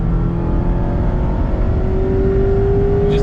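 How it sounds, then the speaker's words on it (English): A 2021 Mazda MX-5 Miata RF Club engine pulls steadily through its rev range, its tone rising smoothly and continuously under a loud, close cabin drone. "Just let it pull all the way through the rev range"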